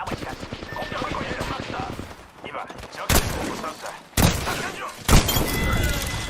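A cluster grenade going off in a battle royale shooter game, a rapid string of bursting blasts with several heavier thumps near the end, mixed with gunfire and a voice talking over the action.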